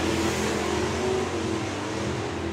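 A drag racing car's engine, a Cuda or Valiant at a Nostalgia Superstock drag race, roars and revs steadily, a deep sustained growl close by with no talking.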